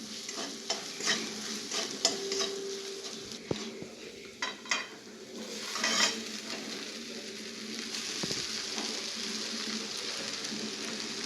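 Potato pieces stirred in a kadhai with turmeric and salt, a steady sizzle of frying under repeated scraping and clinking of the spoon against the pan, close and fairly quiet; no talking.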